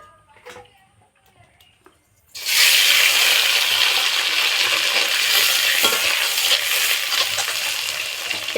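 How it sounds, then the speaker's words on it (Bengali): Eggs hit hot mustard oil in a wok for an egg curry, and a sudden loud, steady sizzle erupts after a quiet start with faint clatter. The crackle then holds strong and close to the end. "এবারে ডিমগুলো ভেজে নেব।"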